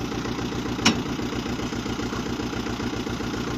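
Tractor driving a rotary tiller through its 540 rpm PTO while tilling ground for potato planting: a steady, moderately loud, throbbing engine drone with a faint rhythmic clatter and one brief sharp click.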